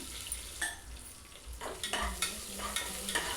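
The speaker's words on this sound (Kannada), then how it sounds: "ಒಂದು ಆನಿಯನ್ನ ತಗೊಂಡು ಚೆನ್ನಾಗಿ ಫ್ರೈ ಮಾಡ್ಕೊಳ್ತಾ ಇದ್ದೀನಿ" Gentle frying hiss of onion browning in a pan for mutton curry, with a spatula scraping and stirring at irregular intervals, quiet and close with no voices.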